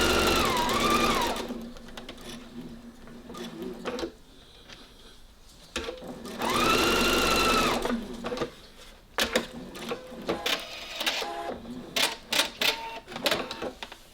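Sewing machine stitching a knit dress: two sustained bursts of fast, close mechanical whirring with a rising-falling motor tone, separated by pauses filled with fabric handling, light clicks and small knocks.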